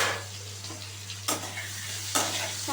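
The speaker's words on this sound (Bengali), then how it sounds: "আর নুন হলুদ দিয়ে আমি আলুগুলোকে খুব ভালো করে লো টু হাই ফ্লেমে আলুগুলোকে আমি ফ্রাই করে নেব" Raw potatoes seasoned with salt and turmeric fry in a pan, a steady close sizzle broken twice by the scraping rush of a stir.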